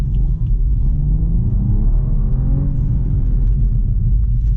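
A BMW 435i brakes hard from speed, heard from inside the cabin as a loud, steady low road and engine rumble with a slowly shifting tone.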